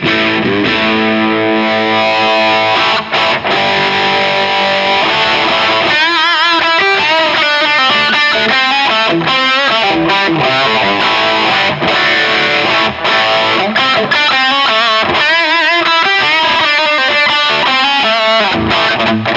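Electric guitar through a Kernom Ridge overdrive pedal set for a scooped, high-gain American metal tone, playing loud, continuous distorted riffs with dense chugging and sustained chords throughout, no voices.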